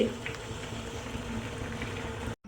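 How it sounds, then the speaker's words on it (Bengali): Rasgullas boil in a full wok of syrup, a dense continuous bubbling and gurgling heard up close that stops abruptly near the end. "পুরো কড়াইটা ভর্তি হয়ে গেছে, কি সুন্দর টকবক টকবক করে ফুটছে"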